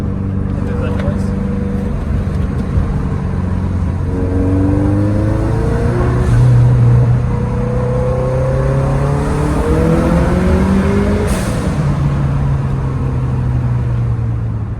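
Subaru WRX GC8 engine revving through a tunnel, a loud, rising and falling engine drone with gear changes, echoing steadily under someone talking.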